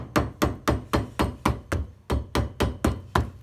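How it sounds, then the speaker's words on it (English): A hammer knocks repeatedly on the sole of a dog-chewed boot under restoration, giving a dozen close, loud, evenly spaced thuds in a steady rhythm with no talk. "give that a knock with the hammer"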